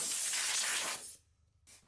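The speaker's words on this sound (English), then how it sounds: "I'm spraying the footplate whilst it's in situ without using any masking tape on the other parts." A steady, close aerosol-style hiss of spray paint going onto a 7¼ inch gauge Sweet William model locomotive footplate for about a second, cutting off, then a brief second burst at the end.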